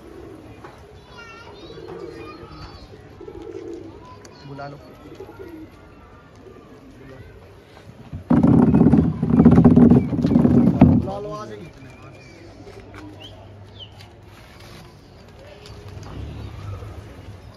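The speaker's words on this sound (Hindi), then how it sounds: "देखिए दोस्तों ये कुछ पिया के कबूतर है उड़ते हुए" Pigeons take flight in Rohtak pigeon keeping, a loud burst of wingbeats lasting a few seconds midway, set among soft cooing, background chatter and nearby voices.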